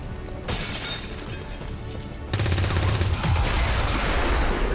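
Loud gunfire in XCOM 2 as a soldier shoots a sectoid, with a rattling burst of rapid shots and a sharp shattering impact, growing louder midway and continuing to the end.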